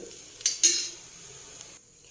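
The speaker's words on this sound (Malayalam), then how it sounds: "നമുക്ക് തേങ്ങ ഒന്ന് മൂപ്പിച്ചെടുക്കാം" Grated coconut roasting in a pan over a low flame gives a faint, quiet sizzle, broken by two brief scrapes of stirring near the start before it settles back to a soft hiss.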